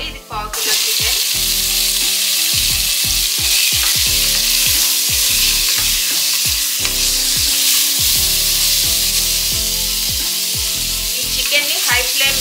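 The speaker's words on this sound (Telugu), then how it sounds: "చికెన్ని హై ఫ్లేమ్ మీద ఒక 2 నిమిషాల పాటు కలుపుకోవాలి." Half a kilo of chicken frying and being stirred on a high flame, a loud steady sizzle with repeated scraping stir strokes throughout, no talking.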